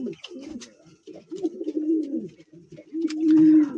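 Pigeons on a farm coo close by in repeated low, throaty phrases with short pauses between them, and no talk over them.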